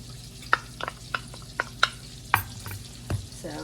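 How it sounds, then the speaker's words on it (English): Dry ingredients being stirred into a flour mixture for a maple bacon walnut coffee cake, with a series of sharp scraping and tapping strokes against the bowl, fairly close, while bacon sizzles faintly underneath. "We are going to stir this into our flour mixture here."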